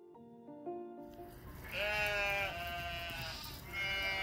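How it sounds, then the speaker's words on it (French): Sheep bleating in a rural spot in Lorraine's northern Vosges, several drawn-out wavering calls at moderate distance following a short tonal intro, with no talk. "Des moutons."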